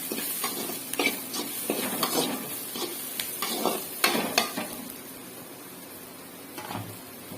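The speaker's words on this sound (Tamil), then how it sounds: "இஞ்சி பூண்டு வாசனை போகிற வரைக்கும் நல்லா வதக்கிடும்" Ground crab gravy paste with ginger and garlic sizzles gently in a pan while a spoon stirs and scrapes it in repeated, uneven strokes, fairly close and moderately quiet.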